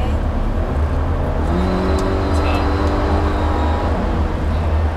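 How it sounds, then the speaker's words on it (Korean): A Volvo XC60 accelerating in dynamic drive mode, its engine drone loud and continuous with a tone that climbs steadily as the revs rise, heard from inside the car. "이제 드라이브 모드를 다이나믹 모드로 놓고 달려볼게요"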